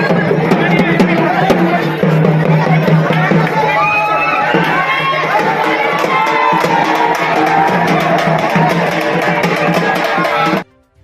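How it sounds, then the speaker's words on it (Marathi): Thousands of Shiva devotees at a crowded celebration in Koregaon chant Har Har Mahadev, a loud continuous roar of massed voices and cheering that cuts off abruptly near the end. "हजारो शिवभक्तांनी हर हर महादेवाच्या घोषणा दिल्या"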